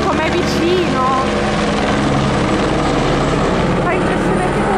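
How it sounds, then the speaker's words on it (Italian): A firefighting helicopter flies back and forth over a forest fire close to a house, and its loud, steady rotor drone fills the whole stretch. Voices are faintly audible under the noise. "L'elicottero continua a fare avanti e indietro senza sosta."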